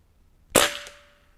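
A single sharp shot from a Barra 1100Z .22 air rifle, a crisp close crack with a short ringing tail and a faint pellet impact just after.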